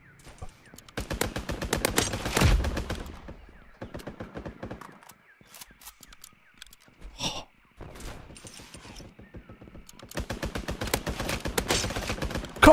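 Rapid bursts of gunfire from the video game Mini Royale, fast rattling volleys clustered at the start and end with scattered single shots between, fairly close and crisp.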